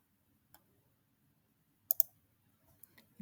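Computer mouse clicks on a spreadsheet list option in a quiet room: a single soft click, then a quick pair of sharp clicks, followed by a few fainter taps.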